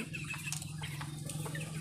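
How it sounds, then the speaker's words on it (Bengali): Chickens on a farm cluck softly while feeding on cabbage leaves, with brief bird calls and light pecking over a steady low hum throughout. "আমার সবগুলো মুরগি কত সুন্দরভাবে খাইতেছে"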